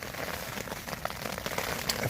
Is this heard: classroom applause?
no